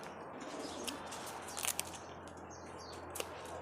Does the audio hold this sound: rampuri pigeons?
yes